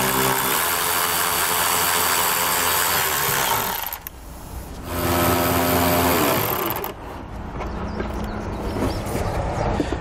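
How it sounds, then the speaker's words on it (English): A power tool with an 8mm socket whirs in bursts, backing nuts off studs inside the trunk of a 2018 Mercedes-Benz during a trailer hitch install, with loud close spins, brief pauses and no talking. "We'll grab an 8mm socket, and we can pull those out."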